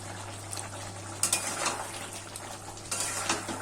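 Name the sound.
stirring drumstick curry in a pan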